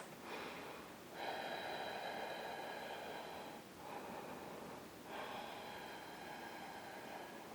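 Slow, deep breaths held through a yoga pose, three long airy inhale-exhale cycles, close and steady, with no talking.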